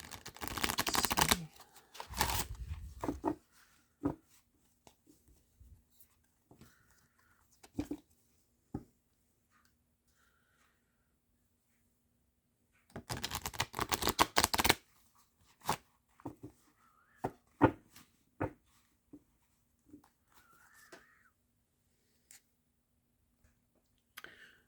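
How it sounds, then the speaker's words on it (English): Tarot cards being shuffled close by in a few quick bursts of riffling, separated by soft taps and rustles, with quiet gaps between. "Give me a second to shuffle."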